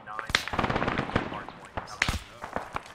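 Sniper gunfire in the ArmA 3 combat game: several sharp, loud cracks spread irregularly across a busy firefight, with distant shots and radio chatter mixed underneath.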